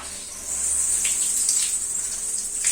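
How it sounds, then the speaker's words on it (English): Warm water spraying over a soaped bicycle frame to rinse it, a steady hissing rush that starts about half a second in and continues evenly, close by with no voices. "just rinse off again using hot or warm water."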